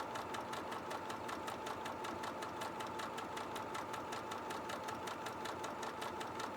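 A Janome sewing machine with a circular sewing attachment stitches a quilting round, its rapid, even mechanical chatter running steadily and close throughout without any voices.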